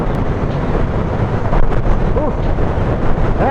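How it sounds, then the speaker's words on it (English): Steady, loud wind roar buffeting a microphone on a naked motorcycle at highway speed, with engine drone underneath and brief gusts. "Ooh, it is windy."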